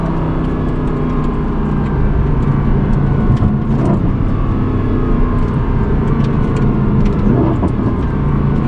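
A Mercedes-AMG Black Series V8 downshifts, its loud, close engine note snapping through rapid blips and crackling revs that stay continuous and aggressive throughout.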